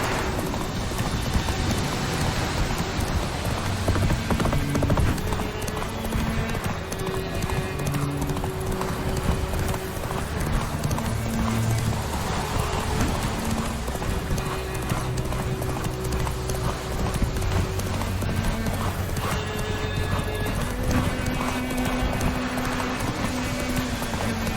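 Roach, the horse in The Witcher 3: Wild Hunt, gallops with rapid, rhythmic hoofbeats that clatter steadily and loudly over in-game ambience, with faint mechanical creaks mixed in.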